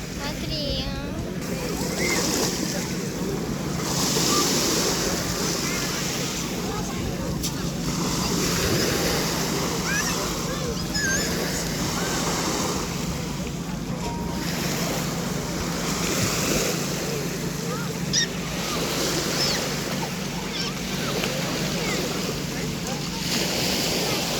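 Mediterranean Sea waves washing onto a hotel beach, a continuous loud surf roar mixed with wind buffeting, while people talk through it.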